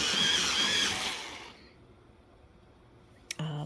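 A chipped green colored pencil is sharpened in a short, loud whirring grind lasting about a second and a half, then quiet, with a brief click near the end.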